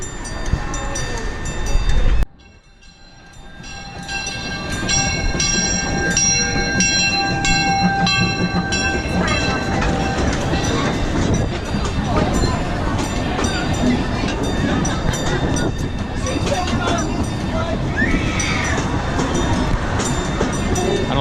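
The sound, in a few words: coal-fired steam train passing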